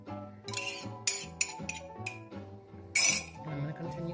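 Metal spoon stirring homemade gravy in a pan for a roast dinner, repeated light clinks and scrapes against the pan in an uneven rhythm, close and fairly clear, one sharper clatter near the end.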